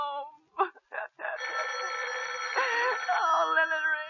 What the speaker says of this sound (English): Let it go on ringing.